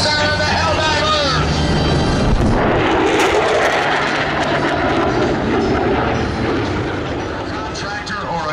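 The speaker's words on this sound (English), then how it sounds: "accelerating away, here comes the Rhino, the Corsair, and the Helldiver." Vintage Corsair and Helldiver warplanes fly past at the Blue Angels homecoming airshow, a loud sustained engine roar that swells and fades over a broad crowd murmur, with an announcer talking over it on the PA.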